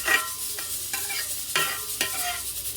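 A spoon stirs soaked rice in a pot while making bagara rice, giving a run of scraping, rustling strokes with sharp transients at an uneven pace, close and fairly loud over a faint sizzling background.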